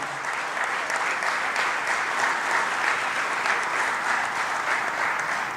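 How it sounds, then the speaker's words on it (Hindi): Steady, dense applause from an audience welcoming Arif Mohammad Khan at the Acharya Shankar Prakatotsav 'Ekatmak Parv' event in Bhopal, sustained and even throughout with no voices over it. "आप भी तालियां बजा के उनका स्वागत कीजिए"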